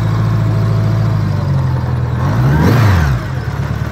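A 1980 Honda Goldwing GL1100 engine runs steadily up close, its low idle briefly rising and falling in pitch partway through as the choke is adjusted, with no talk.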